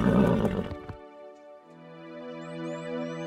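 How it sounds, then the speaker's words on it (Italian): A loud nearby whinny from a cartoon winged horse, starting with a rough burst and trailing into a long, drawn-out tonal neigh. "Un cavallo alato!"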